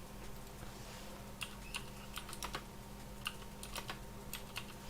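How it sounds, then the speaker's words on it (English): Quick bursts of keystrokes on a computer keyboard, soft and somewhat distant, tapping in short irregular runs over a steady low background hum. "I'll type it in the chat."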